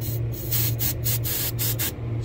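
Refrigerant hisses out of an AC compressor system in repeated short spray bursts, close and fairly loud, with brief gaps between them.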